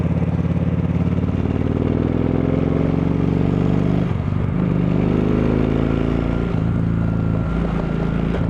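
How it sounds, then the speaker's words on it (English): A Kawasaki Vulcan Vaquero big touring motorcycle riding, a steady loud engine drone with rising and falling revs and gear-change dips, heard close with continuous wind and road noise and no voices. "Now you do touch down pretty quick on this motorcycle, but this is a big touring bike."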